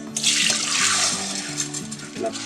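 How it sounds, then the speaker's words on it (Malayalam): Soaking water for rice is poured off and drained through a strainer, a steady splashing stream under a low electrical hum, with the flow easing slightly toward the end. "അതൊന്ന് നമുക്ക് വെള്ളം ഒന്ന് കളഞ്ഞ് അരിച്ചു വെക്കാം"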